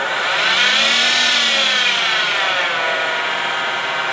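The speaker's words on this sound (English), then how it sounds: "so I will turn it with a skew." A wooden cheese grater handle turning on a lathe and cut with a skew chisel, taking off the corners at less than full speed: a steady, loud, continuous whirring and scraping with a faint low hum sweeping up and down.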